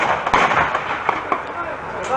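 Gunfire shooting rings out as a few sharp, loud cracks over a rough, noisy background, with a couple of shots bunched close together.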